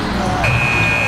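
A game buzzer sounds at the end of a quarter in NBA 2K26, a steady electronic tone cutting in partway through and holding over crowd noise and commentary.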